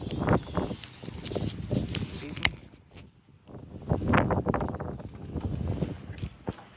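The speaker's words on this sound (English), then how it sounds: "As you can hear, it is a very windy day." Strong wind blows across the microphone on a very windy day, heavy broadband rumble and gusting roar that swells and eases throughout, with a brief lull midway.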